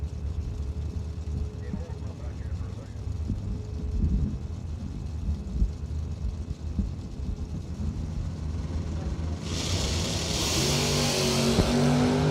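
A Chevrolet S10 and the Deuces Wild Chevy II drag cars race side by side at a bracket drag racing event. Steady engine rumble swells into a louder, higher roar near the end, with what sounds like talk underneath.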